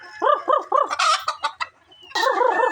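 Gamecock roosters cluck in a rapid repeated rhythm, then break into crowing with sharp calls, close and loud, with no talking over them.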